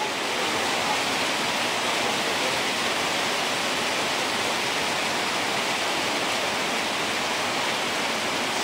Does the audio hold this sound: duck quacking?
no